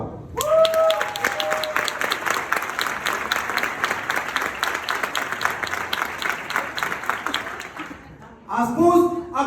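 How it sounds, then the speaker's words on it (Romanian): Audience applause for Sebastian Popa fills a large hall at an Enagic Kangen water event, dense and sustained for about eight seconds, with a speaker's voice over it at the start and again once the clapping dies away. "Și vreau să îl aplaudăm pe Sebastian Popa."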